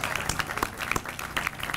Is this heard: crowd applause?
yes